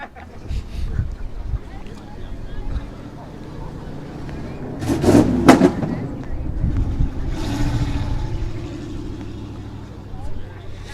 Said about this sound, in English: Nice loud exhaust. And backfire.